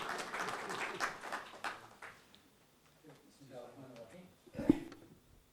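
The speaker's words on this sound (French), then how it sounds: "Je vous demande de les applaudir" Workshop audience applause, fairly faint, that swells briefly and then tapers off. Voices murmur through it, and a sharp thump sounds near the end.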